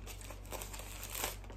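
A plate wrapped in plastic packaging from a Wish mystery box is unwrapped, giving soft, continuous crinkling and rustling close to the microphone, fairly quiet, with no talking.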